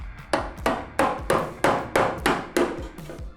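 Metal hammer blows against a dolly reshape a car body panel on a custom widebody Conquest TSI build, eight sharp evenly spaced strikes ringing close and loud with no talking.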